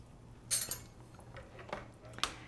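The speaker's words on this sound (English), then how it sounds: "we're just going to scoop this soup right into the blender." Metal ladle scooping creamy broccoli and pea soup into a blender, a few soft clinks and knocks spaced over two seconds, close and quiet.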